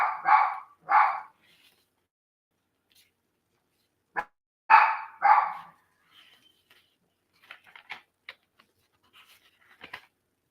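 A dog barks in two short pairs of loud, close barks separated by a pause, followed by fainter scattered clicks and small noises, with no talk.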